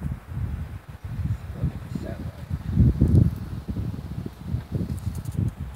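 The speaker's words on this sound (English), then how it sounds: "There's more wind. I miss like the big gust." Wind buffets and rushes across the microphone in uneven gusts, swelling louder around the middle before easing, with faint rustling underneath.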